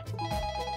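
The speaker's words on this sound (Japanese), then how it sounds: "ん、電話か。" A telephone rings with a bright, pulsing electronic trill in a Japanese animated comic scene, heard briefly and clearly with no talking over it.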